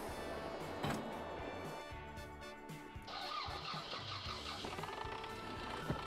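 A tractor in Farming Simulator 22 drives steadily with a continuous mid-pitched engine hum, its tone lifting partway through as it heads toward a potato field, with no talking.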